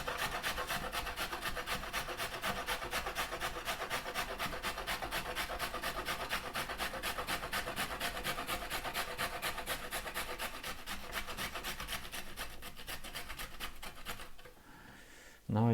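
Carrots grated on a box grater, a steady rapid rasping scrape repeating for about fourteen seconds, close and fairly loud, then stopping abruptly.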